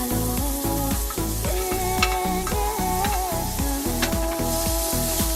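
Garlic and ginger sizzle loudly in a frying pan on low flame, with a steady crackling hiss and rhythmic scraping strokes as the pan is stirred repeatedly, close up.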